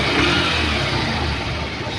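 A Honda CD 110 motorcycle engine running just after being started with the electric self-start, a loud, steady, close mechanical drone with no voices over it.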